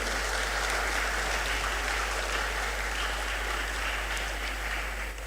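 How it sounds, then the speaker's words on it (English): An audience at an inaugural university lecture applauds in a steady, dense wash of clapping that holds at an even loudness for about five seconds, with no voices over it. "Clap for yourselves."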